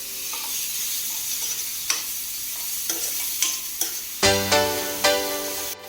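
Tomatoes salted in a pan for pav bhaji sizzle steadily while a spoon scrapes and stirs with several sharp clinks, the last few metallic taps ringing louder near the end.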